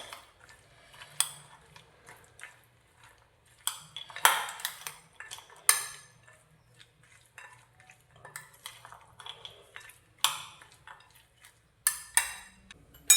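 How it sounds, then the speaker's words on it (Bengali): Straw salad ingredients being mixed with beaten sour yogurt in a bowl give scattered spoon-on-bowl clinks and scrapes, several sharper knocks standing out against soft stirring, with no talking. "তো এগুলো আগে সব মিক্স করে নেবো ভালো করে।"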